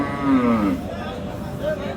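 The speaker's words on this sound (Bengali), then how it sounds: "এই সুন্দর ষাঁড় বাচ্চাটি" A Friesian cross bull calf at the Aftabganj cattle market lets out a close, drawn-out moo, then a shorter second call, over a murmur of crowd noise.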